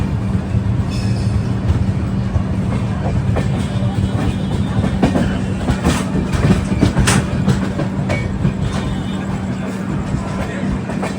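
Passenger train heading toward Chennai rolling along the rails, a steady loud rumble with clickety-clack wheel noise and a low droning hum throughout, heard from inside the carriage with faint talk in the background.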